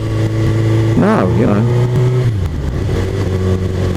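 A Suzuki GSR 1000 K5 motorcycle rides along with steady engine drone and a brief rising-and-falling rev in the middle, heard close under wind noise with someone talking over it.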